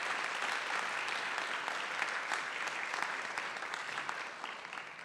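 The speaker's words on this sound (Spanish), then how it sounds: "Un fuerte aplauso, por favor." Audience applause at a public policy forum in Mexico City, steady sustained clapping from a crowd throughout, gradually easing toward the end.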